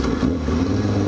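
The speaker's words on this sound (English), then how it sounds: "you can hear the exhaust a whole hell of a lot more than usual" A car's exhaust rumbles with a steady low drone and engine revving, loud and close, running continuously without any talk.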